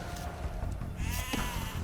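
Sheep bleat in the Age of Empires II video game, wavering calls over a dense, busy game soundscape of background effects and music, fairly quiet overall.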